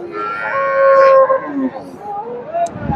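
A large dairy cow at a cattle market lets out one long, deep moo that swells and then trails off, followed by quieter rustling nearby.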